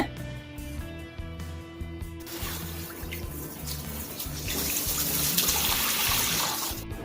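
Running tap water pouring over a henna-dyed wig as dried henna is washed out, a continuous splashing stream that grows louder and fuller in the second half.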